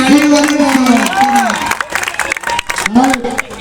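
A crowd at a wrestling event applauds and cheers loudly, with steady clapping under a loud amplified announcer's voice that shouts over the noise.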